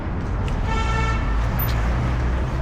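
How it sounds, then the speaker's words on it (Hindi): A short electric horn beeps on a Yulu electric rental bike in busy Delhi traffic, rising briefly over a constant loud roar of road noise and surrounding vehicles. "चलो अब मुझे भी हॉर्न बजाने का मौका मिल गया।"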